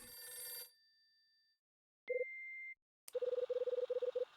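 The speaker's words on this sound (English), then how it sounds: "Damn's a bad time for the phone to ring." A telephone rings in the video game Last Window, heard as a tone that cuts off and then a single beep, followed by a rapid trilling electronic ring pattern, clear and close with no talking.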